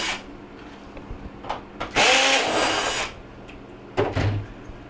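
A power driver whirs loudly for about a second while backing screws out of the rear panel of a Frigidaire refrigerator, preceded by small clicks and handling noises and followed by another short, sharp burst.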